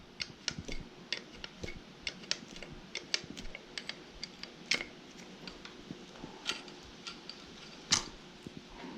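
Wrench work loosening an oil line on the engine of a 1942 Farmall H tractor during teardown: a steady series of small metallic ticks and clicks, close and fairly quiet, with a few sharper clinks, and no talking.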